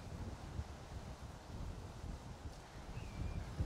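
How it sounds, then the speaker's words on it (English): Gusty wind buffets the microphone on a seaside cliff top, a steady low roar that swells and dips throughout with no voices. "It's very windy at this point."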